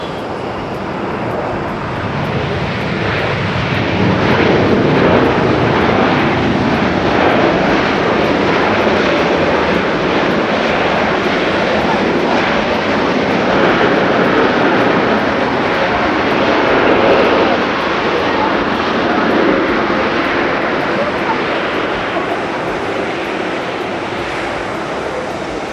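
An airliner landing at Haneda airport gives a loud, steady jet engine roar that holds for the whole stretch and swells slightly midway, heard from fairly close with a broad rushing wash.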